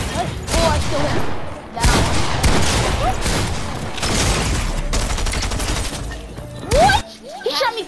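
Fortnite gunfire, heard as repeated loud bursts of rapid shots and booms across the span, with short gaps between volleys.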